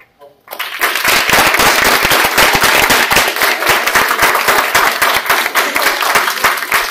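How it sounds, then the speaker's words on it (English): An audience applauds after a tech talk about building a Strawpoll clone with Firebase and Angular, loud, dense clapping from a near crowd that starts after a brief quiet moment and keeps going steadily. "Applause if it was helpful."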